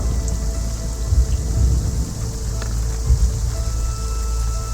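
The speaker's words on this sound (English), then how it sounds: "Rain seems to be coming down even harder than it was when you initially came out here, Hazel." Heavy rain pouring down as a steady, dense ambient wash, with occasional low rumbles like distant thunder, and no voices.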